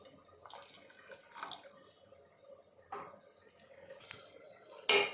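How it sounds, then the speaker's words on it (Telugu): Water splashes into a pot of tomato rasam in short bursts from a tap, fairly close and quiet, ending with a sharp metallic clink. "ఇప్పుడు మనకి ఎంత వాటర్ కావాలో అంత వాటర్ వేసుకోవాలి"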